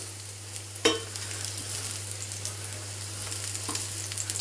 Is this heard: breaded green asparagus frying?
yes